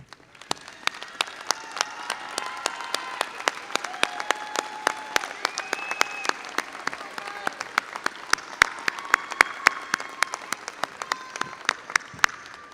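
Sustained applause from a large university commencement audience, dense clapping filling the space steadily with a few sharper claps standing out, no voices over it.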